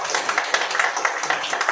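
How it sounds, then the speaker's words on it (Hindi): Audience clapping at a Hindi-language religious sermon, a steady patter of many hands beating irregularly throughout, moderately loud with no voice over it. "ताली बजाओ"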